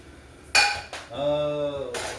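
A plate set down in a home kitchen during fried rice cooking makes a sharp ceramic clatter, followed by a ringing clink that sustains and then fades. A final knock closes the handling, close and fairly loud.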